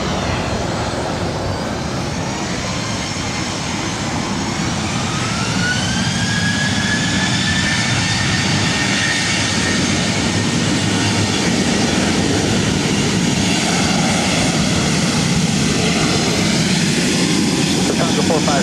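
Jet airliner roaring down LAX runway 24 right on its takeoff run, a loud sustained engine thunder with rising whine, heard continuously throughout.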